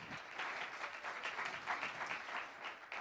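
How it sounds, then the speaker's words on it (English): Applause from a church congregation welcoming three performers, a dense, steady patter of many hands clapping at moderate distance, sustained throughout without speech. "can we give them a round of applause and love?"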